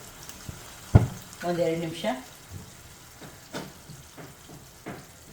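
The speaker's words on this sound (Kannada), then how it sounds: "ಈಗ ಎಲ್ಲ ಚೆನ್ನಾಗಿ ಒಂದ್ಸರಿ ಮಿಕ್ಸ್ ಮಾಡ್ಕೊಳ್ಳೋಣ" Raw tomato gojju is stirred in a pan with added water, a sharp clatter at the start followed by a wet bubbling sizzle and scattered spoon scrapes at an irregular pace, close by.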